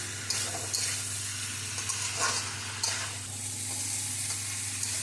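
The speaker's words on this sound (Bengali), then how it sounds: "আমি সবজিটাকে ভালো করে কষিয়ে নিয়েছি।" Vegetables sizzle and crackle in a hot pan as a spatula stirs them, with a loud, continuous frying hiss, scraping strokes and a steady background hum.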